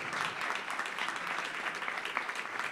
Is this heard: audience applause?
yes